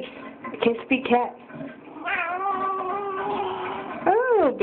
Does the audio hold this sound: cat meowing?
yes